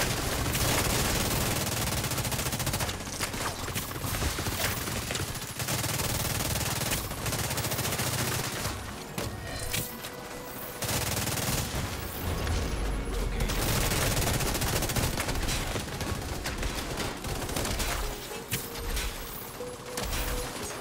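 Gunfire from the Railsplitter rifle in the shooter The Division 2, rapid sustained automatic bursts that keep firing almost continuously with a few short pauses, loud and close, backed by mechanical clatter and other battle sounds.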